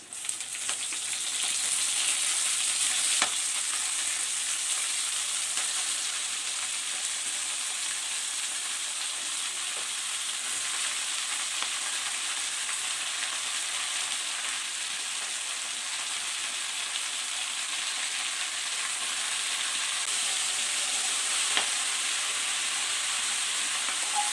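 Steady, bright sizzling of spinach frying in hot oil, continuous and close, with no talking.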